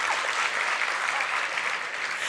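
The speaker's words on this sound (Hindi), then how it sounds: "नहीं, ताली ठीक बजा रहे हो" An audience at a spiritual discourse during Chaitra Navratri claps steadily, a dense, continuous wash of applause from a large crowd that stays even and loud throughout.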